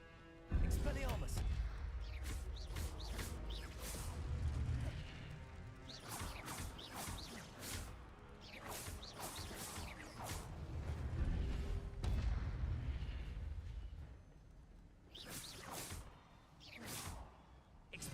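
Spells cast in Hogwarts Legacy combat make repeated booming blasts, crashes and sharp magical bursts in irregular clusters, loud and close, with a voice speaking over them at times.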